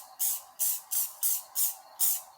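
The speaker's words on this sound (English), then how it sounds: "you can actually tint your pigments with spray paint" Spray paint can releasing six short, evenly spaced hissing bursts, close and fairly loud, used to tint pigments for an epoxy resin ocean beach wave piece.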